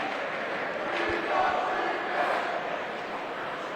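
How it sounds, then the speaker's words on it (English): Winchester home hockey crowd chanting at a rink in Woburn, Massachusetts, during a high school boys varsity game against BC High, a steady broadband roar of many voices without distinct peaks. "Crowd already chanting something."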